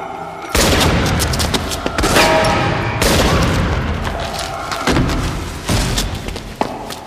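Gunshots exchanged in a TV drama street scene: several loud, sharp booming shots in quick succession with echoing tails, close and dominant, with a reverberant outdoor ambience between blasts.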